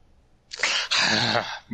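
One sharp, explosive cough-like burst from a nearby person, a quick intake then a forceful expulsion, heard on its own.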